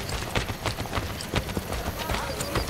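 Horse hooves clip-clop in a steady trotting rhythm through a Renaissance Italian city in Assassin's Creed Brotherhood, set against busy game ambience, with someone talking over it.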